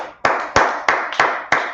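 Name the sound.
group clapping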